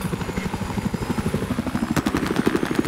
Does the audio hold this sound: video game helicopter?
yes